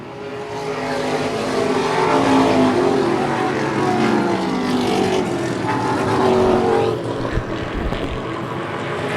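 Stock race cars roaring around the oval at Wiscasset Speedway in Maine, their loud engines swelling and fading as the pack passes close by, then drifting away.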